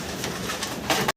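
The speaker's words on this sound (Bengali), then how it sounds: "ডিম বাচ্চা করা কবুতর" Grey barless German Beauty Homer pigeons, a breeding pair already laying eggs, give a brief, close coo with a few soft pulses before it cuts off.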